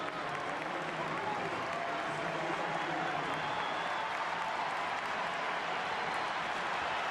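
A stadium crowd at the Argentina vs Chile Copa America 2024 group-stage match applauds to welcome Lautaro Martinez and Angel Di Maria, a steady distant wash of clapping that runs unbroken throughout.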